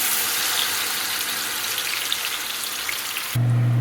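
A paste of ginger, garlic, onion, tomato and coriander sizzles loudly and evenly in a pan, a dense hiss that cuts off abruptly near the end into a low hum.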